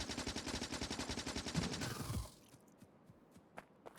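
Rapid rhythmic turret gunfire in Factorio, a steady fast stream of shots that stops abruptly halfway, leaving a few sparse pops and clicks.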